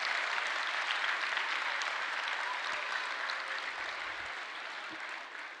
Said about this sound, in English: give a great round of applause for the convention chair